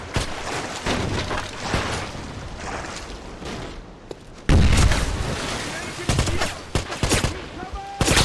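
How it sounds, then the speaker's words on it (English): A grenade goes off in the shooter Wolfenstein (2009): a sudden loud blast cuts in midway after scattered distant gunfire. More crackling shots and booms follow close behind it. "Grenade out!"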